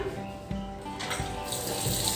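Ginger being rinsed under a running tap, water streaming steadily into a sink with small splashes and handling sounds as the root is scrubbed clean of soil, close and moderately loud.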